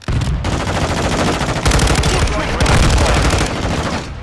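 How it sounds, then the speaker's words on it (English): Sustained bursts of automatic gunfire in the video game Call of Duty MWII, loud and close, rattling rapidly across the whole stretch with dense overlapping shots and brief shifts in intensity. "Taking effective fire."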